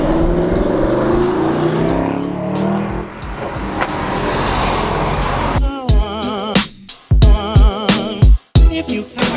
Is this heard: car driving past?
yes